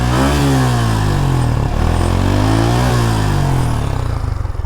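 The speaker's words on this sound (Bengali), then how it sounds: "দেখেন আমি এই বাইকটার ইঞ্জিনের সাউন্ডটা শোনাই" A two-year-old Suzuki Gixxer Monotone motorcycle's engine revs loudly up and down several times, rising and falling in pitch, recorded up close with no talking.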